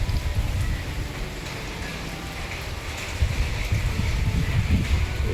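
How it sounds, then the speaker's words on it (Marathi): Steady outdoor rain falling, a broad constant hiss with a low rumble of wind buffeting the microphone, growing slightly louder toward the end. "पाऊस पडतो."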